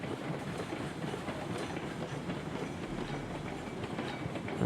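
Trains roll along the track in the Railroads Online rail game, a continuous rumbling clatter of wheels and cars that stays steady and moderately loud, with no talk over it.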